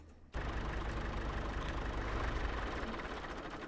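A tractor engine idles steadily in Farming Simulator 25, a loud continuous low rumble that starts abruptly after a brief silence and holds even to the end.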